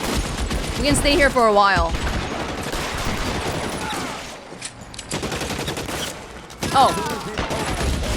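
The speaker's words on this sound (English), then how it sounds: "let's just start shooting" Gunfire in the video game L.A. Noire: dense, rapid volleys of shots crackle through most of the stretch, broken by a brief lull, with people talking over the shooting.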